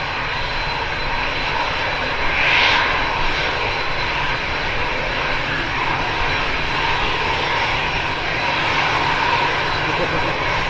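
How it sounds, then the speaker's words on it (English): EasyJet airliner jet engines rumbling steadily at an airport as the plane moves, a continuous loud broadband roar with a brief swell, with a voice talking faintly beneath it. "Oh, EasyJet's on the move."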